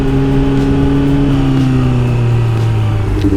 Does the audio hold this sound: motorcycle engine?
yes